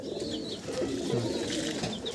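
Andhra Madrasi pigeons coo in a crowded loft, a low, continuous murmuring chorus with faint chirps over a steady background.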